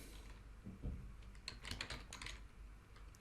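Someone types a web address on a computer keyboard in a quiet room: a short, close burst of soft, irregular key clicks with no talking.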